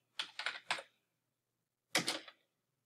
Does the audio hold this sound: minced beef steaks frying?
no